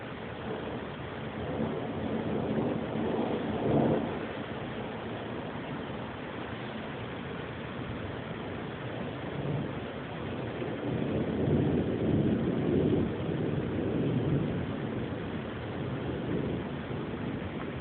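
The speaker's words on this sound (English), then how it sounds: "Just a bunch of lightning and a lot of thunder." Thunder from a lightning storm over Garner rolls as a low, broad rumble under steady wind noise, swelling once early and again more heavily later, with no one speaking.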